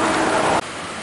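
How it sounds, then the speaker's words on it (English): A small creek swollen by a January thaw rushes by deep and fast, a dense, loud, steady roar of water that drops abruptly in level partway through. "That's a lot of water. It's deep and it's moving pretty fast for this creek."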